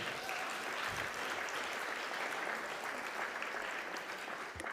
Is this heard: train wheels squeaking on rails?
no